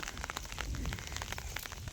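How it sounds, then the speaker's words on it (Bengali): Heavy rain pattering steadily on surfaces, a dense, even hiss with scattered drops throughout, fairly faint and without voices. "এত পরিমাণ বৃষ্টি হচ্ছে আর কি, দেখতে পাচ্ছেন আপনারা।"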